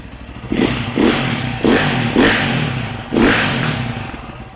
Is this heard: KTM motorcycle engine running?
yes